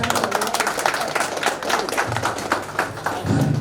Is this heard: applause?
yes